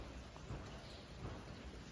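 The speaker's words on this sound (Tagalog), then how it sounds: "Nag-ulan og sugod sa among dapit guys." Steady rain falls during a storm brought by low pressure, a soft continuous hiss with faint low rumbles, fairly quiet and even throughout.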